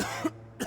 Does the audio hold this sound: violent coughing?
yes